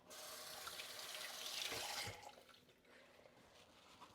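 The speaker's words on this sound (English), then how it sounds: "let me just give this a quick rinse" A kitchen tap runs steadily with water splashing over a pepper being rinsed, then shuts off after about two seconds, leaving faint drips and quiet room tone.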